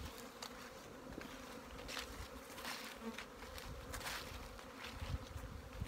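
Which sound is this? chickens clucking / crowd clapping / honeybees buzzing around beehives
honeybees buzzing around beehives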